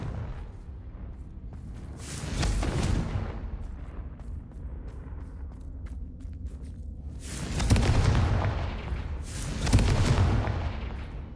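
Confringo spell blasts from the Hogwarts Legacy game go off as deep, rumbling explosions, one near the start and two more toward the end, each booming loudly before fading into a low ambient drone.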